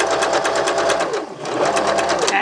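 Sewing machine back-stitching and then stitching forward around fabric, a steady fast rattling whir that runs close and loud almost the whole time with only a brief dip midway.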